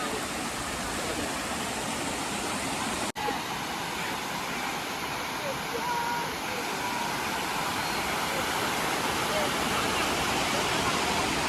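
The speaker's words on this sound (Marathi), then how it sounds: "माझ्या पाठीमागे त्याच्यातून पाणी वाहत आहे" Water pours continuously over the overflow of Vihar Lake in Powai, Mumbai, making a dense, even rush close by, with one very brief dropout early on.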